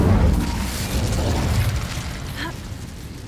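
Incendio fire spell cast in the video game Hogwarts Legacy, a loud whooshing burst at the start that trails off into crackling rumble, with a small bright zing near the end.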